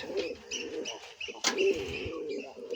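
Pigeons on a farm coo softly nearby, a few low throaty coos and murmurs with faint chirps in the background.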